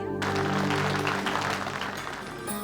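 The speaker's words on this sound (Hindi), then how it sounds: "तालियां" A crowd applauds as a Raksha Bandhan cultural programme begins, a brief steady wash of clapping of moderate loudness lasting a couple of seconds.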